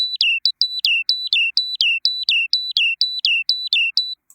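Synthesized great tit call: a steady run of about sixteen bright two-note electronic whistles, high then dropping, repeating evenly and cleanly with no background noise.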